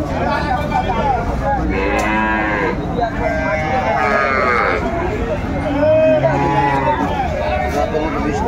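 Dairy cows with their calves at a rural cattle market, lowing and bleating repeatedly and close by over continuous loud crowd chatter and nearby voices.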